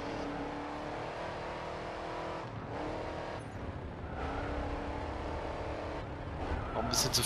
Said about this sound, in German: Hat der Dodge denn so eine krasse Beschleunigung? Da sollte er eigentlich rein theoretisch die ganze Zeit nur driften.